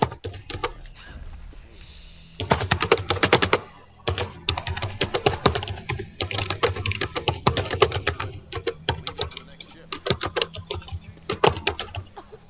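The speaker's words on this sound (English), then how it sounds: "Welcome to Clicky Keyboard. In the background." Rapid clicky computer keyboard typing plays up close in bursts of dense keystrokes separated by short pauses, loud and continuous, with no voices.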